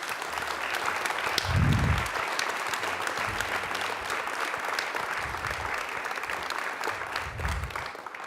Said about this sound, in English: We'd like to give you folks a round of applause.